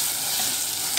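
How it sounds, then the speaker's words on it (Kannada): Tomatoes fry in a pan for a Kannada-style pepper rasam, giving a steady, close, even sizzle with a stirring texture throughout and no voices. "ಟೊಮೆಟೊ ಹಾಕಿ ಚೆನ್ನಾಗಿ ಫ್ರೈ ಮಾಡ್ಕೊಳ್ಬೇಕು."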